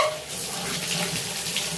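Running shower water pours in a steady broadband hiss, close and continuous, with no voices over it.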